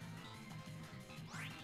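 A Psyduck cry from a Pokemon video game, a short nasal quacking call repeated in a quick rhythmic pattern over soft background game music, followed by a rising synthesized sweep.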